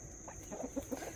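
Backyard chickens and roosters giving a few soft clucks, quiet and somewhat distant, three or four short calls over a steady hum.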